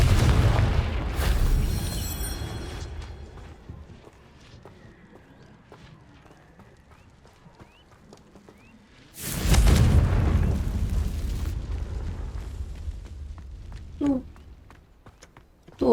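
Two big fiery blasts from the Confringo spell in Hogwarts Legacy, one near the start and a louder one about halfway through, each a booming burst that fades into rumble, with quieter game sounds between.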